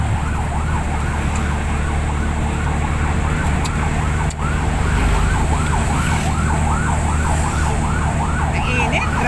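An ambulance siren wails in a steady rising-and-falling cycle over constant road traffic noise, fairly loud and continuous as it passes nearby.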